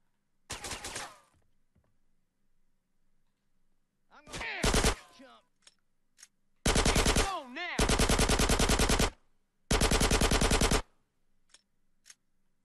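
Gunfire in GTA San Andreas: a short burst, a brief pause, then sustained automatic fire in long loud bursts, with faint isolated shots between.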